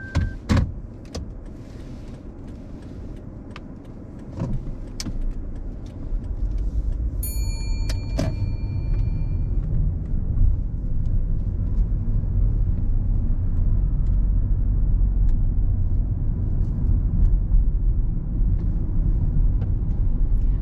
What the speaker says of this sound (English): Drive off whenever you're ready.